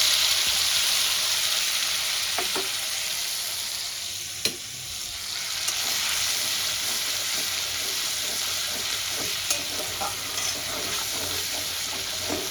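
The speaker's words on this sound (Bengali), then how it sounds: "বেটে রাখা মশলাটাও দিয়ে দেবো" Ground spice paste sizzles steadily in a hot pan while being stirred, for a Bengali katla fish paturi with kochur loti and potato; a dense, continuous frying hiss with a few scraping clinks of the spoon, with no talk.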